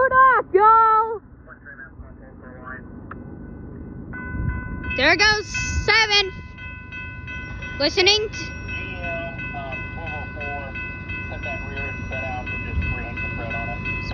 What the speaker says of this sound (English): Train's a lot closer, and it's coming.